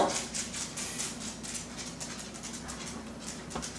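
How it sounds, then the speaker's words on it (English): A dog whimpers and pants softly under a steady hiss of background noise, in faint, repeated breathy whines across several seconds. "Oh, hush, dog."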